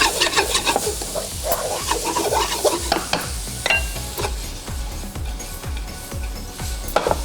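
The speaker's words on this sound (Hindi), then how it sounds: "शामिल करने के बाद इसको अच्छे से आपने स्टिर फ्राई कर देना है।" Carrots and green chilies stir-fried in a pan, a steady close sizzle with rhythmic scraping and clacking strokes of a spatula repeating about every half second throughout, loud and without talk.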